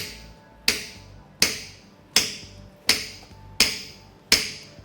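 A steel fuller is hammered into a horseshoe, starting just behind the first nail hole: seven sharp, evenly spaced metallic taps ring out close and clear, with no talk.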